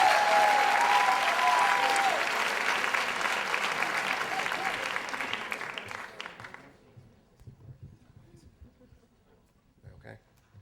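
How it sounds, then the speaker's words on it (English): Audience applause for a storyteller, a full, loud round that tapers off after several seconds into quiet room sound with a few faint claps and a voice at the end. "big round of applause for Matthew Dix."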